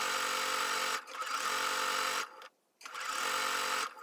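A sewing machine runs stitching smocking lines on fabric in two steady bursts of continuous whirring, separated by a brief pause, close and loud throughout.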